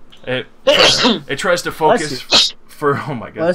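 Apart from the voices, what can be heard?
sneeze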